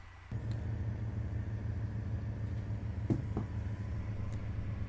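A Salem Fastback, a Mustang-style car in Car Mechanic Simulator 2015, starts off on an old factory test track with a low, steady engine rumble. The engine drones continuously at close range, with a couple of brief mechanical knocks partway through.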